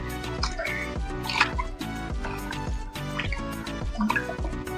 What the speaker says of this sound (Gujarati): બે પાણીએ ખીચડી ધોઈ.